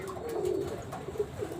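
Pigeons kept in a collection coo softly nearby, a few low throaty rolling coos in a loose rhythm over quiet background.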